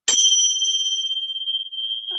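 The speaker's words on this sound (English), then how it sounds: "And that's the very start, the sound of the bell." A small bell is struck once to open a restorative yoga session, a bright clear ding that rings on as a long, pure sustained tone, close and alone, fading slowly.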